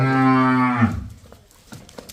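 A loud, deep moo from a large buffalo close by on a farm, lasting under a second, followed by quiet shuffling.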